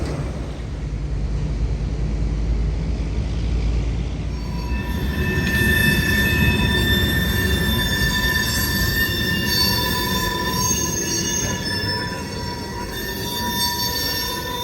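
Freight cars being switched on a mill spur by a remote-controlled switcher, wheels squealing loudly in sustained high whines over a steady rumble of rolling cars.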